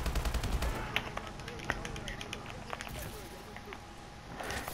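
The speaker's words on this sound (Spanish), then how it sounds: "Me está pegando tiros." Rapid bursts of video game gunfire crackle in quick succession, sharp repeated shots at moderate volume, with a voice talking in the background.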